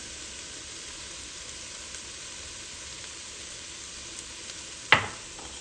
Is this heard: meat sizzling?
yes